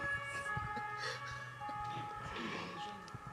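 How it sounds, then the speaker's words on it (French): An ambulance siren passes outside, a faint wailing tone that rises and falls behind low indoor background noise, with brief murmurs of voices. "On va attendre que l'ambulance passe."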